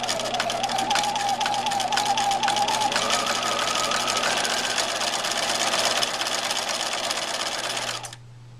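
A sewing machine zigzag stitching along a raw fabric edge runs at a steady fast whirring clatter, close and continuous, then stops abruptly near the end, leaving a low hum.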